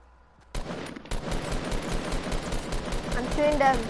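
Rapid machine gun fire in a shooting video game, a loud close burst of rattling automatic shots starting abruptly and continuing steadily to the end, with a brief gap early on and a voice faintly underneath.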